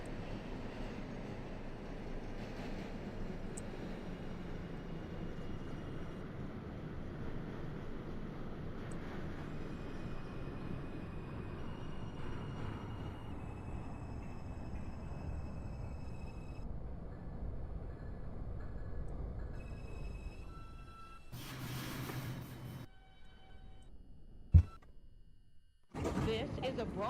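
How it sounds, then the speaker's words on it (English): A Bronx-bound 5 express subway train in the OpenBVE simulator runs with a steady low rumble and wheel noise that fades toward the end, followed by door chimes, a sharp clunk and a voice announcing. "This is a Bronx-bound 5 express train."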